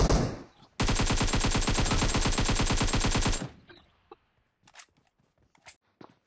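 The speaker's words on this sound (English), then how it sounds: "drop shot is a technique in PUBG Mobile where players prone and shoot at the same time" Automatic gunfire in PUBG Mobile during a drop shot, the player going prone while firing: a loud, rapid burst of evenly spaced shots lasting nearly three seconds, then scattered faint clicks and soft footsteps.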